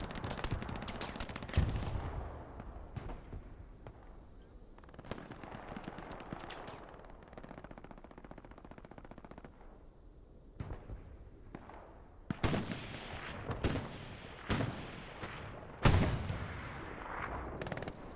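A 90 mm tank gun firing in a World War II tank battle game on the Kursk Windmills map, loud sharp blasts at irregular intervals with bursts of gunfire and crackling between shots.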